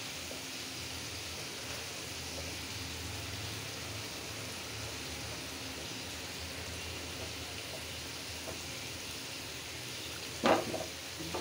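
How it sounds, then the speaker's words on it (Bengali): Spice masala for a brain curry sizzles and frys in a pan with steady crackling and occasional stirring scrapes, one brief louder clatter near the end; no one speaks. "এখানে মগজ ভুনা মশলাটা কষানো হচ্ছে।"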